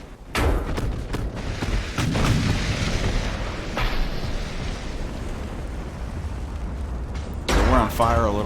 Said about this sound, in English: One more good, solid hit from the 18-inch guns, and he's toast.